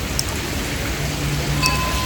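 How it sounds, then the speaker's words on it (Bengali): Heavy rain pours on a flooded street in Baguiati, Kolkata, heard from under a shed as a dense, steady, loud hiss with no pauses or voices. "বৃষ্টি হচ্ছে হার্ডলি 10 থেকে 12 মিনিট হবে"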